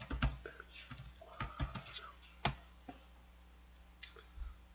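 A computer keyboard clatters with irregular bursts of close typing and key clicks while a client record is entered in accounting software, then a few scattered taps trail off.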